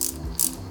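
Short ratcheting clicks of a tiny screw driven by hand into a model car filler neck, close and crisp, two quick bursts in under a second, with no talk.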